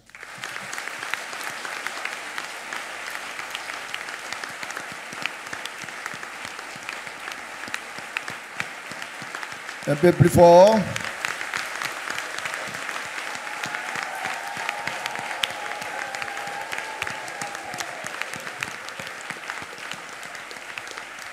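Sustained applause from a large church assembly fills the whole stretch, steady and dense, with a voice briefly speaking over it midway.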